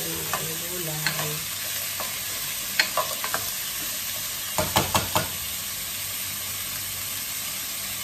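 Vegetables added to a pan with half-cooked milkfish, garlic and ginger, frying with a steady low sizzle while a utensil gives a few scattered knocks and scrapes against the pan.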